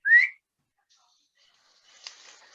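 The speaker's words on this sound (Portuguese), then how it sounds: "Viram assobiar?" A single short, bright whistle rises sharply, then silence, followed by faint distant noise.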